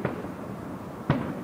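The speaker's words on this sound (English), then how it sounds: "We have fireworks going off right over my head." Fourth of July fireworks bursting overhead: two sharp, loud booming reports about a second apart, each with a brief rumbling tail, heard alone without talk.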